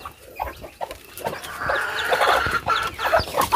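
Chickens and small chicks cluck and peep near the microphone at feeding time, a busy overlapping chorus of short calls that grows denser midway, with no speech.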